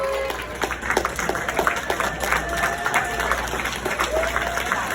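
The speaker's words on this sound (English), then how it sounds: "All right, one more round of applause" Convention crowd at a horror film reunion panel applauds Ashley and Josh, a moderate burst of clapping with a few sharper individual claps and faint voices mixed in.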